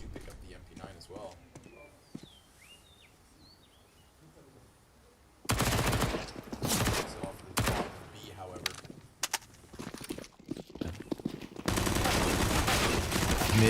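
UMP submachine gun fire in a CS:GO match on Inferno comes in loud automatic bursts after a quieter start, with rapid rattling volleys and a caster talking over them.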